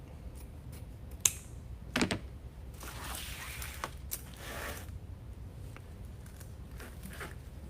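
Pruning shears snip a grapevine wreath tail at a slant, giving a few sharp, close clicks and crunches amid quiet handling rustle.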